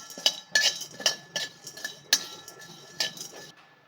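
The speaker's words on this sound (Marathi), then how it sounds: "हळकुंड आपल्याला आता भाजून घ्यायचे आहे ही खलवत्यामध्ये मी ओबड दोबड अशी चेचून घेतलेले आहे ते आता आपण भाजून घेऊया" Coarsely crushed turmeric roots being dry-roasted in a pan, with a series of sharp metallic clinks and scrapes from a spoon against the pan in an uneven rhythm, close and clear with no talk.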